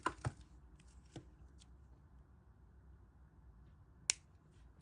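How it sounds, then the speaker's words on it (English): A wire cutter trims excess jewelry wire, giving a few sharp, close snips: two quick ones at the start, a softer one a second later and a crisp one near the end, with quiet gaps between. "we're going to come in with our cutter tool and trim off the excess"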